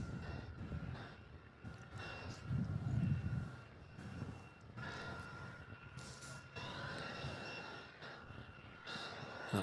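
An airliner rolling down the runway at Melbourne Airport at night, a steady low engine roar building and swelling in the distance, with faint radio chatter and voices talking over it.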